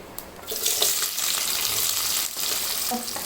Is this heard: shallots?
yes